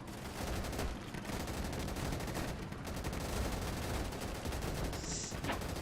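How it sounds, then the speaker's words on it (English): Dense, continuous battlefield gunfire from the World War II shooter game Easy Red 2, set in France 1940: overlapping rifle and machine-gun bursts with distant artillery-like rumble, loud and sustained throughout with no talking. "Waking to the sounds of gunfire and the smell of napalm in the air."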